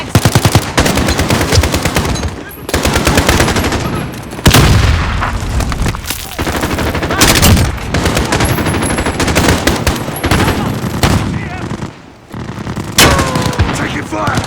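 Intense gunfire in the Modern Warfare (2019) video game on PC, during a Spec Ops mission: loud, dense automatic bursts mixed with heavy booms that run almost without a break.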